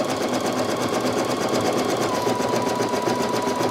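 A Brother NQ3700D embroidery sewing machine stitches freestanding lace at full speed with an organ 75/11 needle, giving a loud, steady, rapid mechanical chatter with no pause and no talking.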